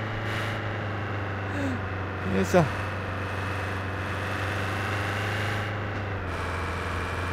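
A truck engine in a logistics simulator game drones steadily at a low idle-like hum throughout, fairly loud and constant, with a brief spoken grunt and a short rising whine near the middle.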